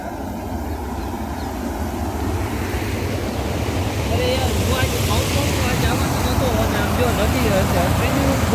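A river swollen after rain rushes steadily past a village, a continuous broad roar of moving water with wind buffeting the microphone and a person's voice faintly audible under the flow.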